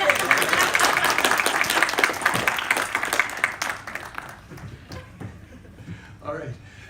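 Applause and clapping from a crowd at a graduation ceremony, loud and close, sustained for several seconds before thinning out and fading as a voice begins speaking.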